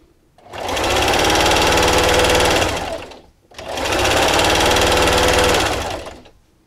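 Two sustained bursts of a sewing machine stitching a fleece blanket, each a rapid, even mechanical whir lasting a few seconds, separated by a short pause, close and clear.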